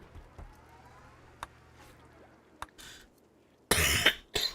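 A person coughs and clears their throat: a few scattered faint coughs early, then a loud, harsh burst of coughing near the end, with no talking.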